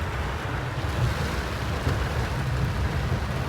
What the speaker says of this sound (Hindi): अभी तो बड़ी वीआईपी और बहुत ज़बरदस्त किस्म की बारिश हो रही है